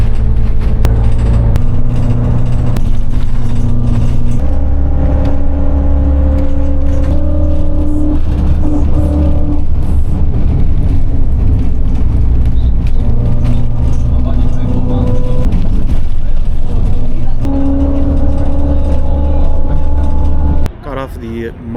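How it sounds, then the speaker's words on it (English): A minibus ride in Hong Kong gives a loud, continuous engine drone that rises and falls as the vehicle revs and shifts. Voices mix in under the engine, and the noise drops off abruptly at the end. "The most vicious bus ride that I've been on in a long time."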